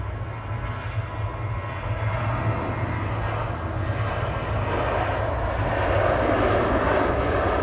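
A Ryanair jet at Manchester Airport gives a constant, dense engine roar with a low hum beneath, growing slightly louder and fuller as it goes on.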